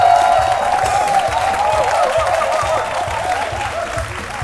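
A television studio audience at a midday Ivorian talk show applauds a guest, with steady dense clapping from a crowd that holds on throughout, fairly loud and close, and a voice faintly under it.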